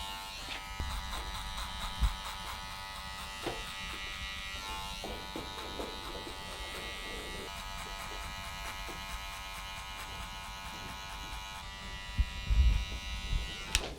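Electric hair clippers with the lever open hum continuously at close range during a skin fade cut, a steady buzz with small bumps and a brief clatter near the end.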